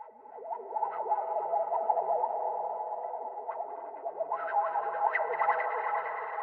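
A dark, distorted lead synth drenched in ambient reverb and echo effects, sustained and wavering in a trap beat setting, with a soft low pulse repeating beneath and brightening toward the end.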